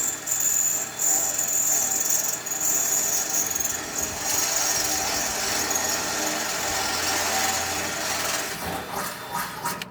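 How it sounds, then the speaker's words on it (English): A continuous grinding, whining power-drill drone runs for several seconds as the bit works through a metal drum-kit bracket, steady with slight wavering, close up and without talk. "Just put a little pressure on it and let the drill bit walk through."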